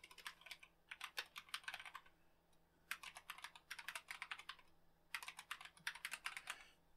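Typing on a computer keyboard while setting up a Solus Linux install, in three clear bursts of rapid key clicks separated by short pauses, fairly close and alone.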